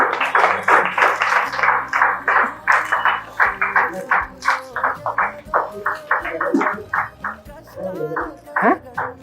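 A group claps steadily and rhythmically at a Telugu Christian prayer gathering, the sharp claps mixed with voices speaking or singing throughout.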